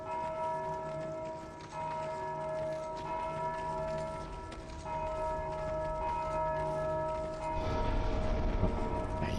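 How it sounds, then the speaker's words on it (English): Bell ringing in the Dark Souls II: Scholar of the First Sin video game, sustained tolling with steady ringing tones throughout and a rougher, louder layer of game noise joining near the end, no talk. "Keep ringing that bell, buddy."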